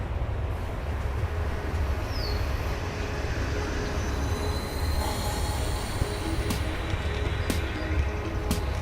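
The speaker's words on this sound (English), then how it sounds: "Load the train." A train in the City of Heroes video game rolling steadily close by, with a continuous rumble, faint rhythmic clacking and thin wheel squeals, and no one talking.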